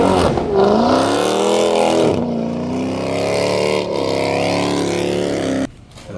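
A car slides on grass at a car meet, its engine droning loud and steady with rising and falling revs, close by, then cutting off abruptly near the end.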